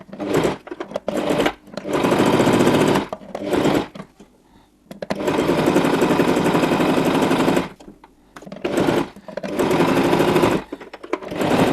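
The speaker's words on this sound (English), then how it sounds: "Using the sewing machine, I'm just going to sew all the way around the edge." A sewing machine stitching around the edge of fabric for a pen holder, running in loud close bursts of rapid whirring separated by short pauses.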